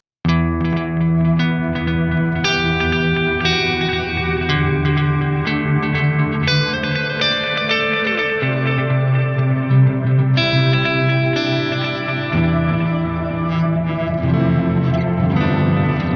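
An electric guitar through a Chase Bliss Onward and Big Sky reverb, drenched in lush reverb and modulation, chords and notes blooming into a wide shimmering wash that sustains continuously, loud and close.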